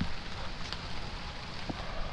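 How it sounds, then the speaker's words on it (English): Steady rain pattering down outdoors beside a flooded canal, a continuous broadband hiss with no voices, moderately loud throughout. "Rain's starting to pick up a little bit."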